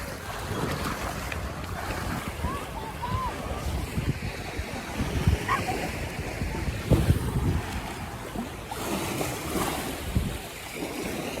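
Sea waves washing up onto the Blackpool seafront, a continuous rushing surf with stronger surges, heavy wind buffeting the microphone and faint voices in the background.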